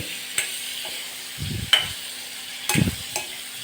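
Pieces of chibhada melon stirred in a pan, a few soft scrapes and clinks of a spoon at intervals over a faint low sizzle, fairly quiet.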